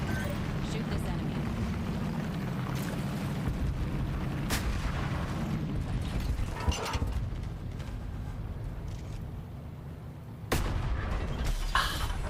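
Gunfire while shooting an enemy in the Final Fantasy XIV Dawntrail 7.1 game, a few sharp shots and booms over a dense, steady bed of game noise and music, with a voice talking throughout.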